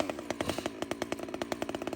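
A chainsaw engine runs unevenly with a rapid chattering, a fast train of sharp pulses that rise and fall, close up and fairly loud, with no speech.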